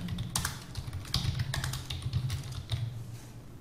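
Keys clatter on a computer keyboard in quick, uneven bursts as a name is typed into an online police constable application form, close and steady with no talking.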